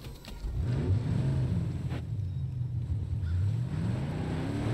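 A car in Far Cry New Dawn pulling away, its engine rising in a revving drone with pitch sweeps, steady and fairly close for several seconds with no talking.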